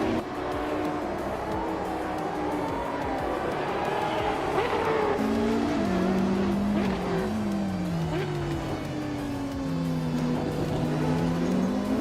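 Porsche race cars in a racing video game roar close together, engines rising and falling through gear changes, with tires squealing in the corners in a continuous dense drone.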